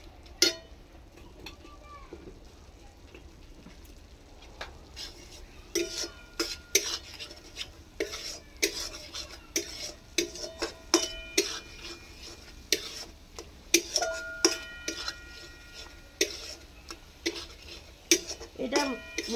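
Spiced masala for a potato curry with chaat masala is stirred and sautéed in a pan: a metal spoon scrapes and clinks in irregular, quick bursts over a low sizzle, growing busier as it goes.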